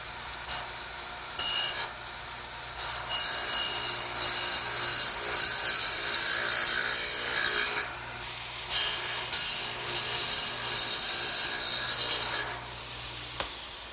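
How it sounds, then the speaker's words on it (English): A wood dado for a workbench shelf is cut with a hand tool, giving close raspy rubbing strokes in long bursts separated by short pauses, with no voices. "now let's turn it over and dado out for the shelf."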